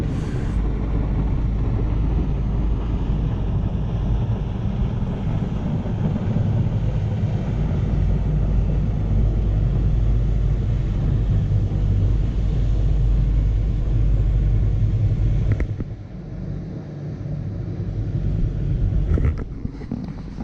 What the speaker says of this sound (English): So that boat is just a sightseeing boat actually. They just go rather quickly through the fjords.